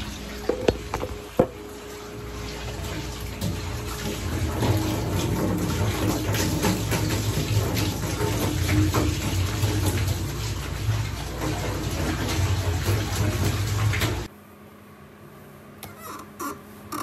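Water pours steadily into a container for mixing calf feed on a farm, a continuous rushing splash for about fourteen seconds before stopping abruptly, leaving quiet background noise.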